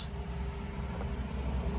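Steady low engine rumble of a car parked at a fuel station during refueling, continuous and moderately loud with a faint background hum, no talking.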